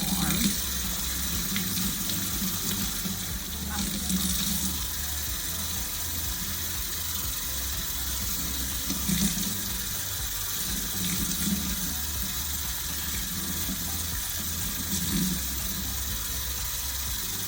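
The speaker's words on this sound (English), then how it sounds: "Making sure that my hair is completely saturated with water." Warm water runs steadily from a tap while hair is being soaked through before a shampoo, a continuous close splashing hiss with small shifts in flow.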